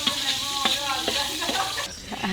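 Onions fry in a hot pot for biryani, giving a close, lively sizzle with bursts of crackling as they are stirred, then cutting off abruptly near the end.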